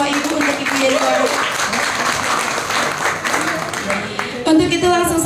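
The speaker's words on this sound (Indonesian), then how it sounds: "Boleh berikan tepuk tangan Bapak Ibu untuk Ibu Yeni Wahid." An audience at a Halal Bihalal gathering of 1998 activists applauds in welcome for Yenny Wahid, dense sustained clapping mixed with crowd voices and a few cheers.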